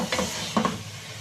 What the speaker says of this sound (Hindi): ये देखिए अब हमने चने इसके अंदर ऐड किए हैं और अभी इसे अच्छे से मिक्स कर लेंगे